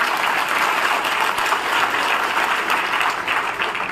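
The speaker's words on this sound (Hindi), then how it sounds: "ताली थोड़ा ठीक से बजा लेते हैं।" Sustained, loud applause from a crowd of party workers at an Aam Aadmi Party workers' dialogue meeting in Rewa, a steady dense wash of clapping with no break.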